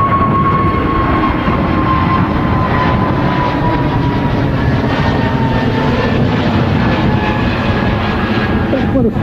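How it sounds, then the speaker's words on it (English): An easyJet Airbus A320neo rolls for takeoff from a very windy Manchester Airport, bound for Jersey; a loud, steady engine roar with a faint rising whine fills the whole stretch, with no talk over it. "EasyJet rolling now is on the way to Jersey."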